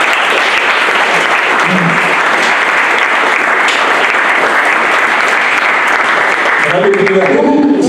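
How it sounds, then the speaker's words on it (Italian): Loud, dense applause from an audience at a comic book presentation for a comic artist, sustained and close throughout, with talking starting at the very end. "Un applauso a Maio che..."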